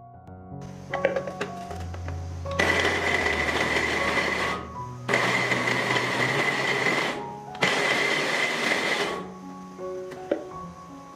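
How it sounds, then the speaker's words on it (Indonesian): An electric chopper grinds half-frozen beef for burger patties in three loud, sustained bursts of whirring motor and blade noise, each a few seconds long, separated by short pauses with light handling clatter and no talking. "Sekarang aku mau giling dagingnya dengan chopper ini juga."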